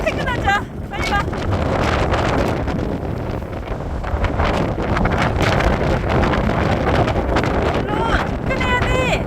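A strong gale on Jeju during a windstorm blasts and rumbles against the microphone in loud, continuous gusts, with voices now and then faint beneath it.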